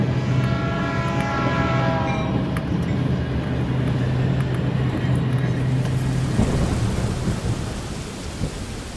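A train in France rolls along the rails in a steady low rumble, with a sustained tonal hum and a rising whine early on, fading slightly near the end.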